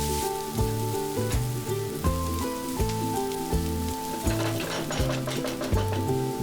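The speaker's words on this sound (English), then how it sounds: "Then add 3 onions chopped and fry this until the onion is nice and soft." Chopped onions fry in oil for Goan pulao, a steady soft sizzle running under a louder melodic music track for the whole stretch.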